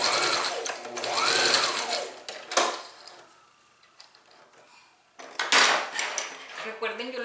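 A sewing machine stitching fabric for a small sleeve ruffle, with a steady whirring run of stitches interrupted by clicks and handling noises, then a second run of stitching after a quieter pause.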